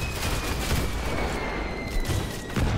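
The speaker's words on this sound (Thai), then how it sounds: "ได้ยินเสียงระเบิดปะ" Dense, continuous gunfire and explosions rumble through a Roblox war game battle, a steady roar of overlapping shots and booms with no pauses; no talk.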